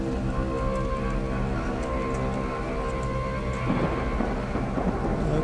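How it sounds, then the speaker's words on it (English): Rain and thunder in the video game Monochroma, a dense continuous wash of rainfall under a low rumbling storm, steady and fairly loud, with game music or droning tones layered over it. "Starting to rain. That's not good."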